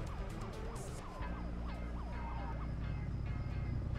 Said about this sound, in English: No, I hear sirens even if I'm not driving through red.